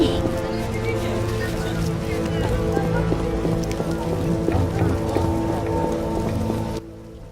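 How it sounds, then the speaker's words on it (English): Steady rain pours down in The Witcher video game, dense and close, a constant hiss of drops on surfaces with faint background sounds, cutting off abruptly near the end. "It's raining."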